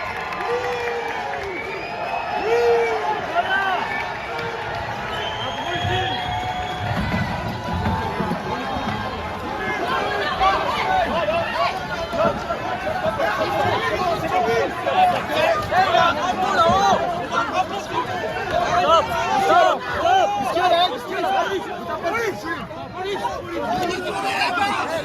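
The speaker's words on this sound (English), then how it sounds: "At least most of the crowd are booing," Crowd at a court booing a person who runs onto it, a sustained loud hubbub of many voices with jeering rising and falling, some scattered cheers mixed in.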